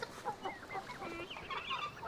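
Farmyard hens clucking in a steady, overlapping chorus, fairly close, with several birds calling over one another in short bursts and no talking.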